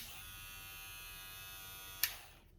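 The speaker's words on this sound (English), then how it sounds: "as far as noise level on this Surker K9S, I actually think it's rather good" A steady mid-pitched electric buzz of a Surker K9S hair clipper runs continuously, then clicks off and fades near the end.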